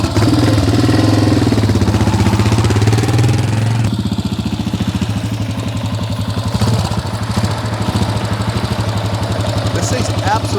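A 1984 Yamaha XT600 single-cylinder motorcycle in near-new, low-mileage condition runs steadily with a close, loud, even thumping idle, while someone talks over it.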